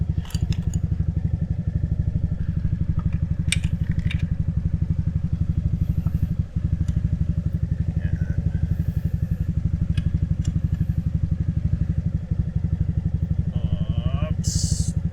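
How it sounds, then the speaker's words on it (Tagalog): A GY6 scooter engine idling close by in a workshop during an oil change: a steady, rapid low putter throughout, with occasional clinks and clatter of tools on top. "So medyo maingay, nag-start na kasi yung isa nating motor."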